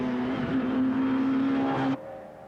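Peugeot 205 rally car on a stage of the 1987 Ulster Rally, its engine holding a steady high-revving drone for about two seconds before abruptly dropping off as it passes.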